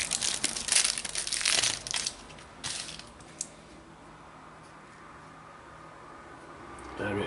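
A Topps Match Attax UCL and Europa League trading card pack being torn open, loud close crinkling and crushing of foil wrapper for a few seconds, then quieter rustling.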